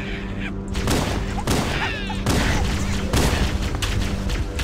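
Rapid bursts of gunfire in the PC video game Halo, on the Pillar of Autumn level, popping repeatedly over a constant droning background with no talk.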